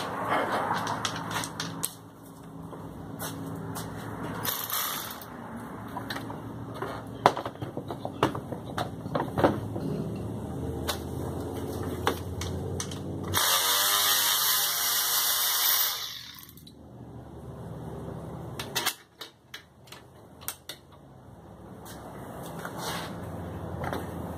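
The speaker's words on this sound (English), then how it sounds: "Now it's time to remove the intake bolts, lower intake bolts." Wrench and ratchet work on the lower intake bolts of a 2000 Camaro with a 3.8L V6, heard as clicks and metallic knocks with a louder whirring burst near the middle. No one speaks.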